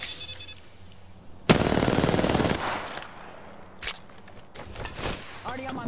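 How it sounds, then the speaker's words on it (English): Bursts of automatic gunfire from the video game Apex Legends, a loud sustained spray of rapid shots for about a second, then shorter scattered bursts, with a character's voice lines and game sounds around them. "Getting shot at."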